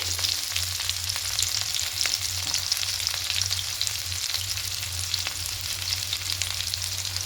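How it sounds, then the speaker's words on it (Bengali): Potatoes fry in a pan for a cauliflower and potato poppy-seed dish, giving a steady, even sizzle with faint stirring scrapes throughout and a low hum beneath. "আলুটা হালকা করে ভাজা হয়ে গেছে"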